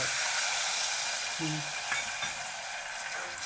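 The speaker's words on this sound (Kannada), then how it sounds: "ಫಸ್ಟಿಗೆ ಹುಂಚೆ ರಸ ಕುದಿಸ್ಬಿಡೋಣ ಚೆನ್ನಾಗಿ ಕುದಿಯುತ್ತೆ" Tamarind juice boils in a pot for drumstick sambar, giving a soft, steady bubbling hiss throughout. It is fairly quiet, with a brief low clink partway through.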